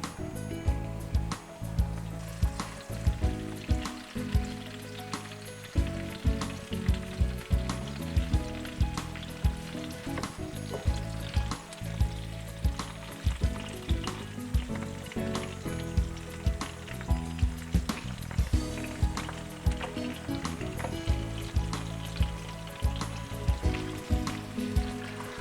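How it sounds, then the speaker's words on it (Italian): A meat roast sears in a hot pan, sizzling and crackling loudly and continuously with frequent pops and stirring clatter, with no talking. "Adesso in questa fase la facciamo rosolare da tutte le parti e la sigilliamo in modo tale che tutti i succhi rimangano dentro."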